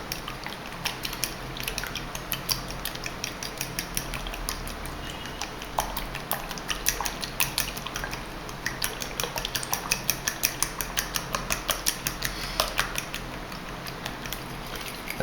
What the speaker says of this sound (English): So I'm going to start beating up the eggs in the middle of the well.